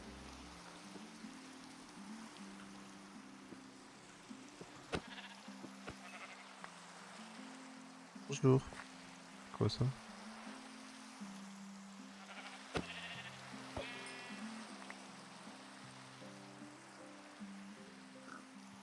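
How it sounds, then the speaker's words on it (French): Sheep bleat in a video game, with a few short, fairly faint bleats standing out against a soft, steady rain-like ambience and low tonal game music. Someone briefly speaks in French. "Ah mais y a des moutons là."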